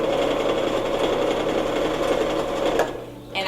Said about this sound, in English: when you're sewing with elastic, just pull your elastic